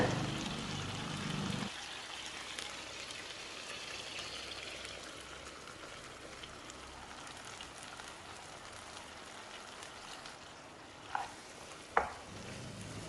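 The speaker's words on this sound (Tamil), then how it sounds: "ஒரு கால் கப் தண்ணி சேர்த்து கலந்து விட்டுக்கோங்க" About a quarter cup of water hits a pan of cooked mutton for pepper fry. A short pour is followed by a long, soft sizzling hiss and two sharp stirring scrapes near the end.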